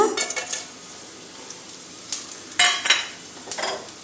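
Whole cinnamon, cloves, cardamom and bay leaf frying in ghee for a baby corn butter gravy, a soft steady sizzle broken by several louder bursts of spoon scraping and stirring against the pan.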